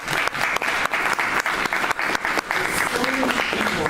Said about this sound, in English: I'd like to give him a big round of applause